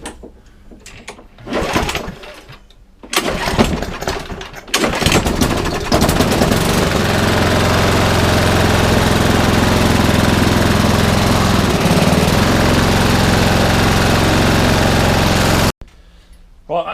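Briggs and Stratton lawn mower engine pull-started with a couple of tugs, then catching and running loud and steady at close range for about ten seconds before cutting off abruptly.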